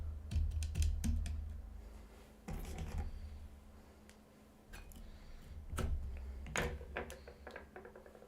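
Keys on a homemade computer keyboard clack in scattered clusters of close, sharp taps separated by brief pauses, heard alone without speech.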